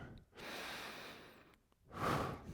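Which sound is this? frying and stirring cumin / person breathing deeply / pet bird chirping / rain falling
person breathing deeply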